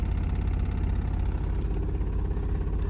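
A cheap old Ford Mustang engine settles into a rough idle, a low, continuous rumbling throb with uneven shaking, heard close and steady with no voices.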